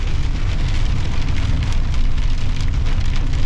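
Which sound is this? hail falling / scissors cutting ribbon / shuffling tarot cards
hail falling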